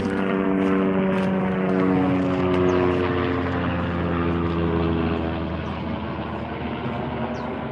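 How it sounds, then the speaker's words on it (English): A medevac helicopter thunders loudly overhead, its rotor chop and engine drone steady and close before easing off slightly at the end. "What kind of helicopter is that?"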